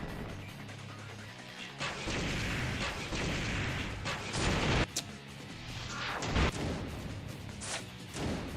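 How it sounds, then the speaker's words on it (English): Boss machine gun fire in Ninja Gaiden Sigma on Master Ninja mode, a dense roar of rapid shots and crashing impacts running for several seconds, loud and close, with sharp bursts standing out. "Striking with the machine gun."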